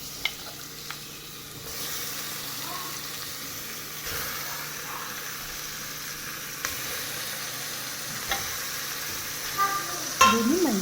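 Washed mutton pieces sizzle in a pressure cooker for mutton curry, a constant hissing fry with occasional stirring clinks and scrapes and a louder metallic clatter at the end.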